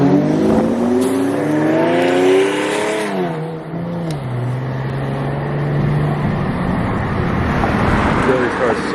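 An Infiniti G37 sedan with a cat-back exhaust and Motordyne Y pipe revs loud and close, its pitch climbing and dropping back to a rumbling idle, while people talk over it.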